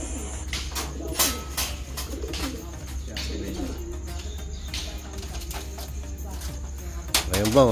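A racing pigeon coos softly in a loft before basketing for a race in Agoo, La Union, with wing flaps, scattered bird calls and someone talking nearby over a low hum.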